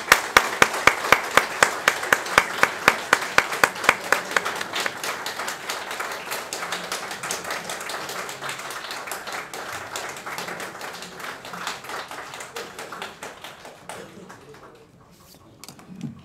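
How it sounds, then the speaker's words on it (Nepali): Audience applause at a book launch for a literary work, a dense burst of clapping with sharp claps early on that settles into steady sustained clapping before tapering off near the end. "सम्पूर्णले हामी जोरदार ताली बजाउनेछौँ।"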